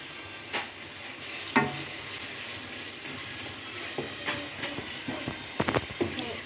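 Tomato frying in a pan, a steady sizzle broken by scraping, clattering stirs of a spoon against the pan, with faint background voices.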